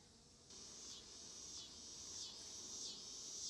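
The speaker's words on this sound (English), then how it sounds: "that is a cicada" A cicada gives a continuous high buzzing drone outdoors, swelling and fading in gentle pulses over a steady noisy background.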